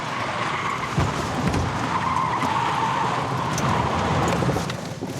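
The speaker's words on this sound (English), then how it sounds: "he instinctively just touches the brake, which causes the car to pivot and skid" A car skids at about 70 km/h as a light brake touch makes it pivot, giving a sustained tire squeal and scrubbing roar over engine noise for several seconds, moderately loud and close.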